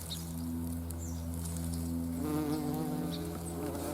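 A bumblebee buzzes around close by, a steady droning hum that shifts in pitch as it moves, heard alone outdoors.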